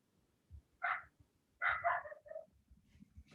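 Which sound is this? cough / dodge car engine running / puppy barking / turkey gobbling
puppy barking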